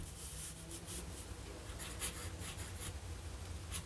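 A Waterman Allure Deluxe fountain pen with a fine nib writes in Diamine Earl Grey ink on paper, giving close, faint scratchy strokes in short bursts with brief pauses between them.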